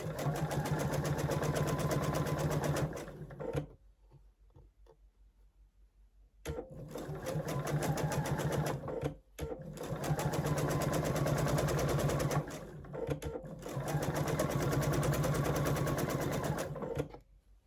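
A home sewing machine runs in long bursts, stitching fabric pieces together for quilted placemats, with short quiet pauses between runs; steady, close and fairly loud, no talking over it.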